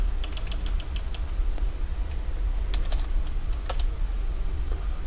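Someone types the ipconfig release command on a computer keyboard, producing a close series of irregular key clicks and taps over a quiet room.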